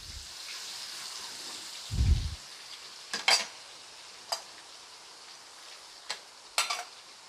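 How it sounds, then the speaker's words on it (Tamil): Crushed garlic and curry leaves sauté in a pan for a prawn sambal with a faint, steady sizzle, punctuated by a few sharp spatula scrapes and clinks against the pan. "பூண்டு பச்சை வாடை போகிற வரைக்கும் கொஞ்சம் வதக்குங்க"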